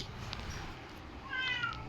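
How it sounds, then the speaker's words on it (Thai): A cat meows faintly and briefly near the end, thin and somewhat distant against a low background hiss. "เออแมวฉันร้อง"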